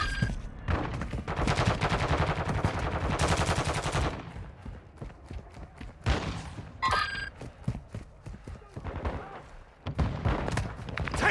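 Automatic gunfire in Call of Duty DMZ on Ashika Island erupts in long, loud bursts, pauses, then returns in sharper scattered volleys with heavy thumps, close and continuous over several seconds.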